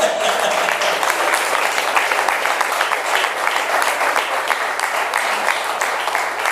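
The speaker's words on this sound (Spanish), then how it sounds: "Dale un aplauso, ¿eh?" Members of a church congregation applaud during a Spanish-language sermon, giving continuous, even clapping from many people that stays loud and unbroken throughout.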